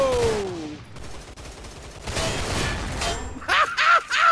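Rapid bursts of automatic gunfire in an online shooter match, loud and close, with a long sustained volley in the middle and sharp clustered shots near the end, with no speech.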